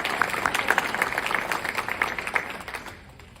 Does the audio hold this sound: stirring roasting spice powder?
no